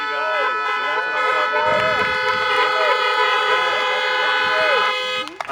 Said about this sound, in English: So if you feel something and you feel good about it, honk the horn.